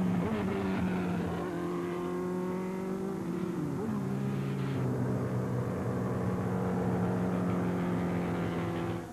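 A car's internal combustion engine runs steadily and loudly, with a strong low hum that shifts pitch briefly midway as if revving, continuing alone without talk.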